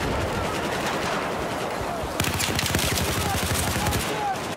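Rapid bursts of automatic gunfire from a first-person shooter game, a dense rattling volley that sharpens and intensifies halfway through, close and loud with no talking.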